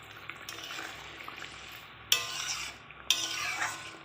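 Hilsa fish frying in a pan with fried eggplant and black cumin, a steady low sizzle broken by two loud bursts of crackling and scraping as the contents are stirred, with no voices.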